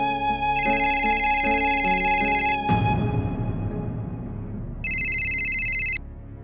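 In a Hindi TV drama, a phone rings with a repeating electronic ringtone that plays in bursts over a musical underscore, then briefly returns after a pause.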